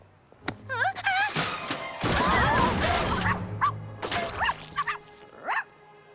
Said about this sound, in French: Le bébé chien a renversé la peinture.